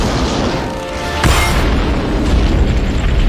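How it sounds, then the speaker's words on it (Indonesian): A helicopter crashes into a building and explodes, a loud boom through a dense, roaring rumble, with a sharp burst midway and heavy noise continuing afterward. "helikopter tersebut meledak menabrak gedung"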